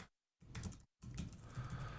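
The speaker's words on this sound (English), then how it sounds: "Sorry for my keyboard clicky." Clicky computer keyboard being typed on, two bursts of rapid, close key clatter separated by short silent gaps, with no talking.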